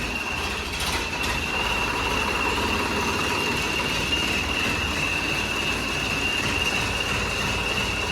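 A tractor engine fitted with a turbo runs steadily close by, a continuous loud rumble with a sustained high turbo whistle held throughout, no voices.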